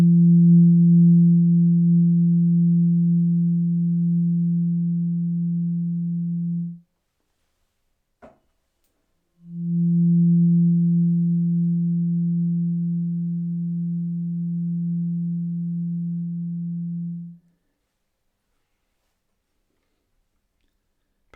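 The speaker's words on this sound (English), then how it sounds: "the third eye fork." A third eye tuning fork rings with a pure, steady low hum for several seconds and fades. After a short gap and a faint tap, it rings again with the same long, smooth tone and then falls silent.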